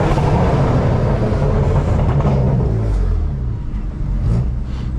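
Engine of a 2016 BMW M3 heard from inside on a drive, a loud low rumble that rises and falls as it revs.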